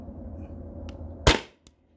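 A CO2-powered gun fed from a 20 oz tank fires a 9.88 gram PVC-coated steel ball, heard as one sharp, close crack over a low hum, followed by a small click.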